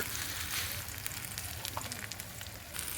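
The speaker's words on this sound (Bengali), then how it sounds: "আমার পেঁয়াজগুলা ভাজা হয়ে এসেছে, আমি এখন আদা রসুন পেশা দিয়ে দেব।" Ginger garlic paste and onions frying in a pan for a spicy quail meat curry, with a continuous faint crackling sizzle and scattered pops; no talking.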